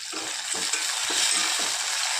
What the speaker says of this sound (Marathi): आता टाकत आहोत आपण एक टमाटा आणि अद्रक लसूणची पेस्ट थोडीशी